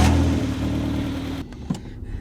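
A car engine rumbling and revving as it drives away from a gym, a loud, rough engine drone that cuts off partway, leaving a few faint clunks.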